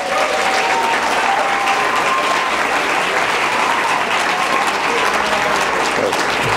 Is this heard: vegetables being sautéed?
no